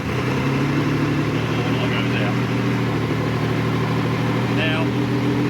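MG Metro 6R4 rally car engine running at a steady idle after starting, a loud low continuous drone with a few brief higher whines over it.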